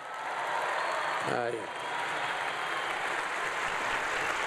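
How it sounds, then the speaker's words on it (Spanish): Sustained audience applause as a tribute to engineer Carlos Slim, a dense steady wash of clapping from a large crowd with a brief voice rising over it. "Quiero pedirles no un aplauso, un homenaje para el ingeniero Slim."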